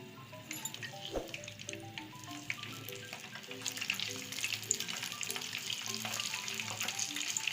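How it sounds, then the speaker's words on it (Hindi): Fish pieces refrying in hot oil on a low, gentle flame give a steady, moderately loud sizzle and crackle throughout, with occasional scrapes and clinks of a utensil. "अब मैं फिश को दोबारा फ्राई करने लगी हूँ।"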